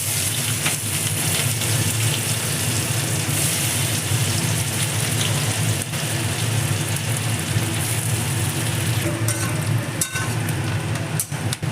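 Chopped onion and garlic hit hot oil with dried chilli and tempering spices, giving a loud, steady, dense sizzle that hisses on without pause for over ten seconds.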